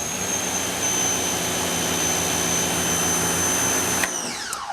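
A Hart 1700 psi, 1.2 gpm electric pressure washer sprays through a turbo nozzle, a loud, steady whining roar with a high tone that runs without a break and cuts off just before the end.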